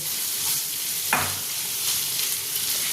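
Prawn masala frying on a high flame while being stirred in a pan, a constant loud sizzle with one sharp scrape of the spoon and light stirring rustles throughout.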